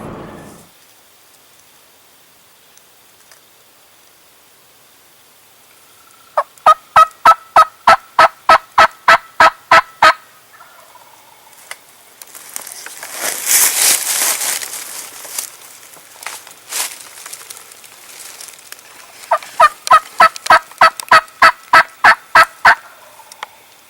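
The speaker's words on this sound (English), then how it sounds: "we finally heard a bird gobble about a mile out the ridge from us" A wild turkey gobbles on a ridge during a spring hunt, in two loud bursts of rapid, evenly spaced notes several seconds apart, with rustling and crinkling noises in between.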